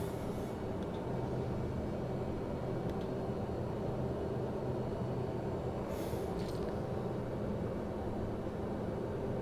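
Pilatus PC-12 turboprop engine in a flight simulator game, a steady dense broadband roar that holds constant throughout at moderate level, with a couple of faint brief clicks on top.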